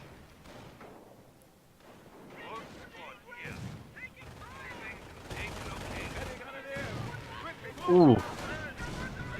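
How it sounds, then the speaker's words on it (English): Gunfire and a grenade blast from a competitive video game match: a sharp, loud explosion near the end stands out over continuous game noise and shooting, with commentators talking throughout. "Horribly effective grenade there"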